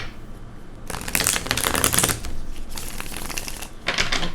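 Tarot cards being shuffled by hand, crisp rapid riffling in two bursts separated by a short pause, close and clear with no talking.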